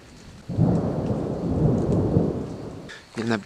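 A rolling rumble of thunder rises over steady rain during a June thunderstorm with frequent lightning, loud and sustained for a few seconds before a brief voice cuts in at the end.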